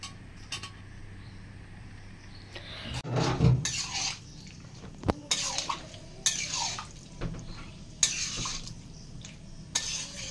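Fried potatoes get stirred into a chana matar curry with a spoon scraping and knocking against the pot in scattered bursts. A low background hum runs throughout, and one clear knock stands out midway.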